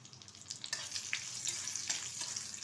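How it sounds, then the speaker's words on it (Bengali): Broken cashews and raisins fry in melted butter in a wok, a soft steady sizzle with faint crackles close by, quiet and without talk. "এখন এর মধ্যে ভেজে নেব কিছুটা কাজু কিশমিশ।"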